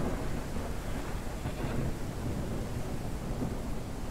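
Steady heavy rain with a low rumble of thunder in the Ranch Simulator game, a dense, even wash of noise lasting throughout with no voices.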